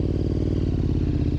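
A reprogrammed KTM 1290 GT motorcycle engine runs loud and close, with a rapid, steady pulsing rumble throughout and no voices.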